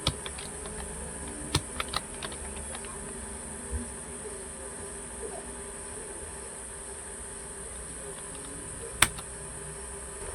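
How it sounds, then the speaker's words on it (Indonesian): A command being typed on a computer keyboard: sparse, faint key clicks with a few sharper taps scattered across the stretch, close-up over a steady high electronic hum, no talking. "dengan mengetik perintah cd spasi lalu nama foldernya"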